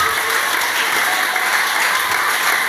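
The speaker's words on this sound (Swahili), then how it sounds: "Ni neno la Bwana cha Yesu Kristo makofi na sifa." Congregation applauding at a church service, a steady dense wash of clapping that carries evenly from start to finish with no voice over it.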